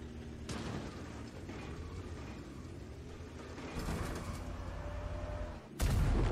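Artillery shells boom in World of Tanks gameplay, a couple of heavy blasts with rumbling low tails, the last one loud and abrupt, over continuous game ambience.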